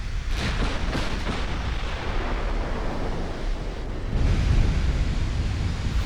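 Battleship gunfire exchange in Ultimate Admiral: Dreadnoughts between Nagato and Queen Elizabeth: a continuous roaring rumble of heavy guns and sea noise, swelling louder near the end, with no voices.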